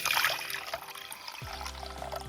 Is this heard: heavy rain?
no